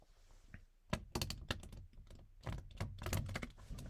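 A deck of playing cards is shuffled thoroughly, producing a quick, irregular run of soft riffling snaps and taps, close and quiet.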